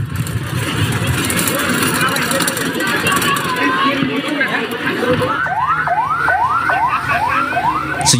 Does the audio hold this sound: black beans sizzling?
no